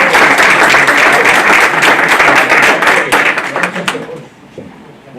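An audience at a 2018 education event gives a round of applause for Cliff, loud, full clapping from a large crowd that thins and fades out near the end.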